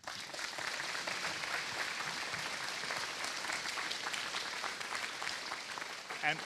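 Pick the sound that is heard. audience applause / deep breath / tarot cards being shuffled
audience applause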